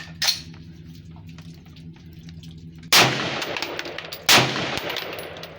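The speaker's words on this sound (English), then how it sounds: "Tried 2 rounds each mag, see if she cycles and locks back." An undergassed rifle fires test rounds at the range, two rounds per magazine, giving three sharp, loud, close gunshots spaced a few seconds apart, each ringing out briefly over a low background hum.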